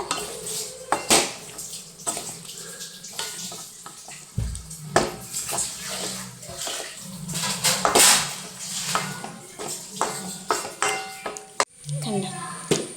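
A metal spoon scrapes and clatters around a pot as chicken is stirred into masala for a Kerala-style chicken curry, with irregular clinks and scrapes at close range, one sharp knock near the end, and some speech in the background.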